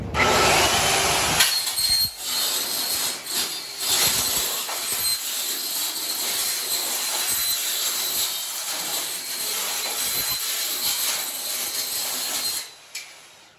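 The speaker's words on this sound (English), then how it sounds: "We're going to be using our old 68 tooth thin steel blade on our 7-inch saw." A 7-inch circular saw fitted with an old 68-tooth thin steel blade cuts through 24-gauge steel roofing. A loud, continuous grinding shriek holds for about twelve seconds, then spins down and stops.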